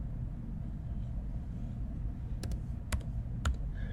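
A few quick clicks of computer keyboard keys being typed in a sparse cluster near the end, faint over a steady low background hum.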